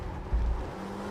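Porsche Cup race car engine in the iRacing sim, a short steady low drone of the motor droning close by.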